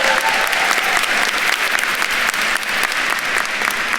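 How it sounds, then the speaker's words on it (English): An audience at a university commencement ceremony claps steadily, a dense, even wash of applause filling the room for several seconds, moderately loud with no voices standing out. "Let's give them a round of applause."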